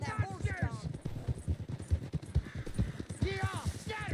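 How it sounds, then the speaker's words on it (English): Horse hooves clip-clopping at a run in Red Dead Redemption 2, a steady drumming of hoofbeats beneath overlapping shouted voices and a brief whinny-like cry, close and busy throughout. "Ease up on that horse, John."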